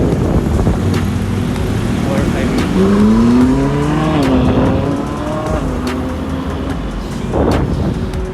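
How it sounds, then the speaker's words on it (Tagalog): A Porsche GT3 RS sports car drives past on a city street in Manila's BGC district, its engine note rising and falling under steady traffic noise and people talking nearby. "Porsche GT3 RS"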